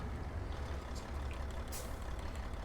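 A truck's air brakes in American Truck Simulator, on a rig with a Caterpillar C3176A engine: a loud, close hiss of released air bursts over a steady low engine rumble that runs throughout.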